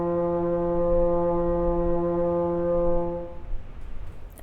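A French horn holds a single sustained middle C, steady and full with rich overtones, ringing alone for about three seconds before cutting off into faint room noise.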